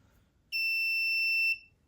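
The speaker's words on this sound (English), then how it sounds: "Once it goes white, the buzzer will play." A single steady electronic tone from an active buzzer on a Raspberry Pi Pico sounds for about one second, loud and piercing with a sharp start and stop, over quiet background hum.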